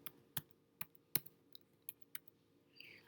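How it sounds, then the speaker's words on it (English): Computer keyboard keys tapped in a quick irregular run of crisp, faint clicks over a low background hum, close by with no voices. "Hit your caps lock button and type computer."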